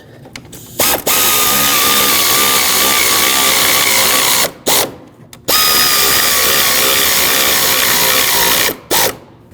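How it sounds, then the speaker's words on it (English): Power drill drives coarse-threaded screws into a new plastic upper radiator support on a 2013-2019 Ford Escape: two long, loud, steady whirring runs, each ending in brief ratcheting stutters. "They're going to have to cut new threads into this new support."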